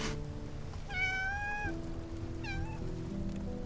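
A cat in the video game Love and Deepspace gives two clear meows, a longer rising-and-falling one followed by a shorter one, over a soft, steady musical background.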